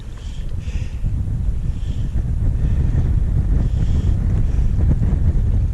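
Strong, snowy wind roars and buffets the microphone steadily during fall crappie fishing, a low rumbling gusty blast with faint water sounds beneath it and no talking.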